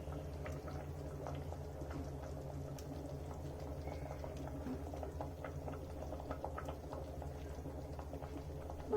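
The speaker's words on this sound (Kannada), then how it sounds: "ನೋಡಿ, ಇವಾಗ ಬಿರಿಯಾನಿ ಕುದೀತಾ ಇದೆ." Egg biryani boiling in a pot, a quiet, steady simmer of small bubbles popping over a constant low burble, close and alone with no talk.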